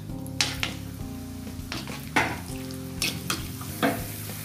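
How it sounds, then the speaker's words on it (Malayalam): Raisins frying in oil in a pan, a soft continuous sizzle punctuated by several clinks of a metal spoon stirring and scooping, with a steady hum underneath. "ഇതിലേക്ക് നമുക്ക് കുറച്ച് കിസ്മിസ് കൂടി ഇട്ട് വറുത്ത് കോരിയെടുക്കാം."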